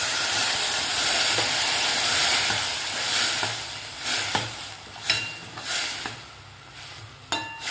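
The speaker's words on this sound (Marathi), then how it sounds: "दोन मिनिट आपल्याला व्यवस्थित मसाला परतायचा आहे." Masala sizzling in a pan as it is stirred during cooking of a bitter gourd dish, a steady hiss with periodic soft scraping clinks of the spoon, close and alone.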